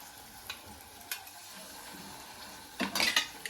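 Mutton curry with tomato paste gets stirred in a pan, a few scattered spoon scrapes over a soft sizzle, then a louder burst of stirring near the end, close and without talk.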